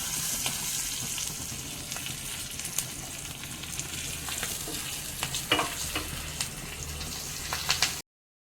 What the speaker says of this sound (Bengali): তো ফুটন্ত ডালের মধ্যে আরেকবার তড়কা লাগিয়ে দিচ্ছি